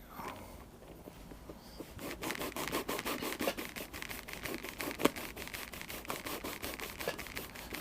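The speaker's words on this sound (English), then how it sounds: "So I'm just rubbing the cloth back and forth. Just give it a nice sheen." A cloth rubs rapidly back and forth over an AKU Leicht leather hiking boot, a steady rhythmic swishing buff that runs continuously at close range after a quieter start.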